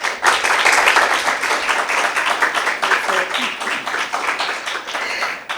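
Audience applause at a school impromptu debate competition final, dense steady clapping from a crowd that stays fairly loud throughout, with a voice briefly heard over it.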